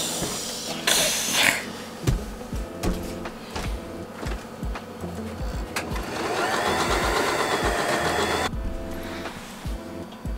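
A sewing machine stitches fabric tubes together for a pair of pants, its motor running in steady bursts with brief pauses and a long continuous run near the end, close and fairly loud.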